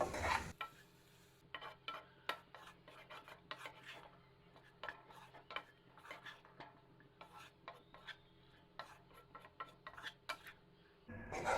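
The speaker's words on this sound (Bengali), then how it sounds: "নেড়েচেড়ে মিশিয়ে নিচ্ছি" Mashed hog plums being stirred into a pickle in a pan over low heat, with soft repeated scraping and rubbing strokes of a spoon against the metal, close and fairly quiet.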